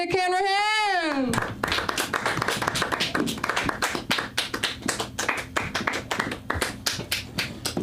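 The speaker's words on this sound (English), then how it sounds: "Please, can we get our hands clapping for the one, the only, Nick Hanrahan?" An audience at a comedy show applauds a comedian taking the stage, with dense, steady clapping close by, right after a brief rising tonal sound at the start.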